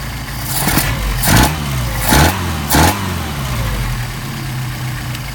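Engine fitted with Solex carburetors idling steadily, with three sharp revs blipping up and falling back in quick succession before settling into a steady idle, loud and close.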